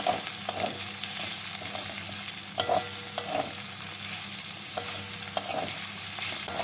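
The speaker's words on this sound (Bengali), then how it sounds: "পেঁয়াজগুলোকে তেলের মধ্যে হালকা ব্রাউন করে ভেজে নেব।" Two medium chopped onions sizzle in hot oil in a pan, browning with a constant hiss broken by occasional scrapes and clinks of a stirring spoon, close up and with no voices.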